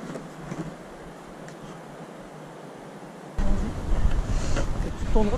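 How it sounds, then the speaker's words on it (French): A small waterfall on a river in a canyon gives a steady broadband rush mixed with wind noise, which grows noticeably louder and nearer partway through. "on entend déjà la petite chute"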